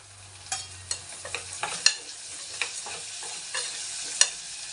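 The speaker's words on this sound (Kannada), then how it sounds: "ಈರುಳ್ಳಿ ಹಾಕಿದ್ದೀನಿ ಇದು ಎಲ್ಲ ಫ್ರೈ ಆಗಬೇಕು" Onion and garlic fry in a pan for a sour pumpkin gojju, giving a steady close sizzle broken by sharp scrapes and taps of a spatula stirring the pan, with no talk.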